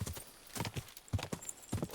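Horse hooves clip-clop in a quick, uneven rhythm while riding in Kingdom Come Deliverance II, close and moderately loud, with a faint background layer and no speech.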